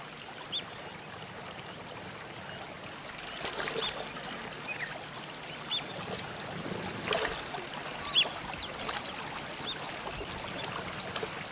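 A river flowing through the savanna, a steady broad rushing wash of water with occasional louder surges and splashes, moderately close and with no talk.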